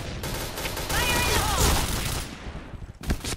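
Rifle fire from a FAMAS G2 in the shooter game Point Blank: dense, continuous bursts of gunfire for most of the clip, with one more short burst at the end.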